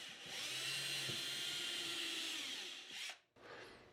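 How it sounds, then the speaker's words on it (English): A handheld power drill pre-drills a hole into the plastic hull of a Native Slayer Max fishing kayak, giving a close, loud, steady whine for about three seconds before winding down, followed by a brief second burst. "we're just going to pre-drill one of these holes."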